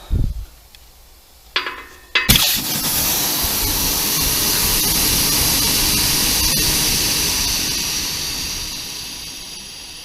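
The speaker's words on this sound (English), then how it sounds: "what I need to do now is disconnect this airline" An air line is disconnected under a car on a rolling road dyno: a few soft knocks, then a sharp clunk followed by a loud, sustained hiss of escaping air that slowly fades.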